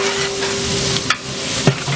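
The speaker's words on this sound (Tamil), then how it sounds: "வெங்காயம் போட்டவுடனே கல் உப்பு போட்டாக்கா வெங்காயம் சீக்கிரம் வதங்கும்" Onions sautéing in a pan with rock salt for a large batch of sambar rice: a steady broadband sizzle with a couple of brief stirring scrapes, close and fairly loud, with no talk.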